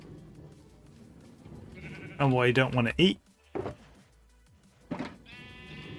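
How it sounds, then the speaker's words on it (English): A Minecraft sheep gives one wavering bleat under a voice, with a couple of short soft knocks afterward. "I'm more concerned about this one sheep."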